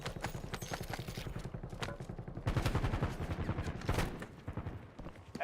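Rapid gunfire crackles in the shooter video game Vertical, dense bursts of automatic shots repeating steadily at mid distance, with music or game ambience underneath and no talk.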